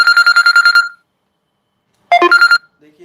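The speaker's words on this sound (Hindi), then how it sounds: "देखिए अभी से फोन आने शुरू हो गए हैं।" A phone rings loudly and up close in a trilling, pulsing burst, falls silent for about a second, then rings again in a shorter burst.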